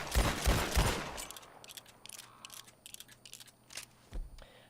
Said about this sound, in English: So, again, I'm just gonna shoot from the hip.